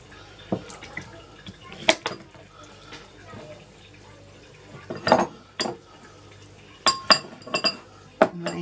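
A serving utensil scrapes and clinks against a dish while a portion of baked rhubarb crumble is lifted out, giving scattered sharp taps and clatters close by over a quiet room.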